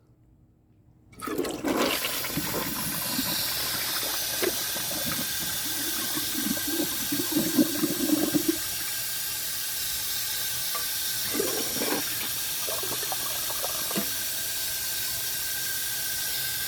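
A 1998 Eljer Patriot toilet flushes with a bag and washcloth in the bowl, starting with a sudden rush of water and then settling into a long, steady hiss of refilling, with a few gurgles along the way.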